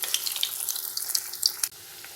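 Egg fingers frying in a little hot oil in a pan over a medium flame, giving a steady bright sizzling hiss with scattered crackles that cuts off abruptly near the end.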